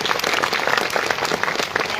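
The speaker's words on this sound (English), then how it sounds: "a huge round of applause to you" Hall applause at a university's first convocation ceremony in Ranchi, a dense, even burst of many hands clapping close and loud for a couple of seconds.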